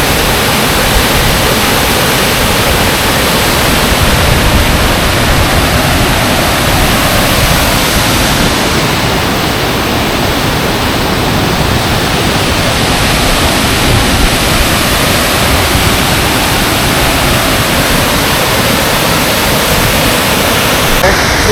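Small waterfall at Kuppanatham dam in Tiruvannamalai, a loud, steady broadband rush of falling water roaring continuously without pause, close by and filling the whole scene.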